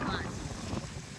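Gusty wind in an open outdoor spot during the onset of the monsoon, a continuous low rumbling buffet of wind noise on the microphone, fairly faint and unbroken throughout.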